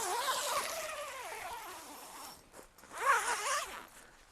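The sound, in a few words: unzipping tent door zipper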